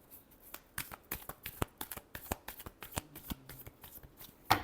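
Tarot cards are shuffled by hand in a dense run of crisp riffling flicks and soft slaps, close and fairly quiet, ending with a sharper snap.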